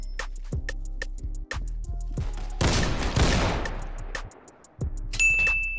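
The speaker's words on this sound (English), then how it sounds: "Starting from the worst gun, the double barrel shotgun." Gunfire in the online game Criminality, with a double barrel shotgun blasting in a sharp burst amid repeated clanging, ding-like hits and rapid shots, loud and close.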